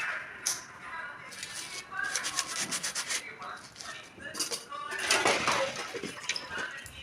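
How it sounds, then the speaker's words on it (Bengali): Dishes, pots and pans are scrubbed at an outdoor tap, with repeated rasping, rubbing strokes and occasional metallic clinks, close and fairly loud, while faint voices murmur in the background. "বাসনগুলো এবার মাজবো।"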